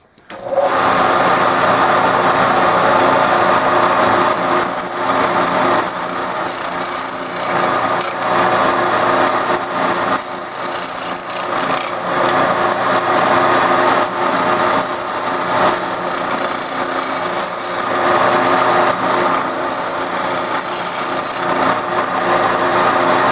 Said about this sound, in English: I'm just gonna do a little bit at a time on my sander